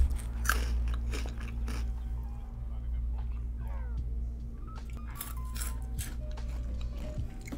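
Cocoa Smoky chocolate wafer candy being bitten and chewed, with several crisp crunches near the start and again later, close and moderately loud over a low background hum with occasional faint sounds.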